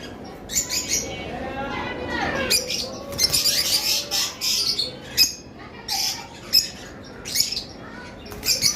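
Caged lovebirds of opaline varieties give off repeated bright chirps and short squawky calls, clustered in bursts with brief gaps, fairly close with a busy background.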